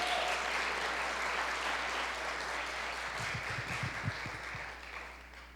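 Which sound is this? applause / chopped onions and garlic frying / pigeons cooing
applause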